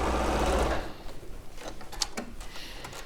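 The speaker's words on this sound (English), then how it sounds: "So foot down and then sew directly on that line" A domestic sewing machine runs steadily at close range as it stitches a seam along a marked line on a cushion panel, with a continuous motor whir for most of a second before settling into quieter mechanical ticks and clicks.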